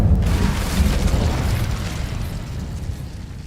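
Incendio fire spell cast in Hogwarts Legacy: a loud rumbling whoosh of flame that bursts at once and then rolls on as a dense, slowly fading roar.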